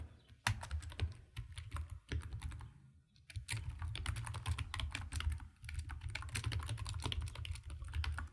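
Quick, irregular clicking of keys on a computer keyboard as text is typed, close and fairly soft, with brief pauses between runs of keystrokes and no talking.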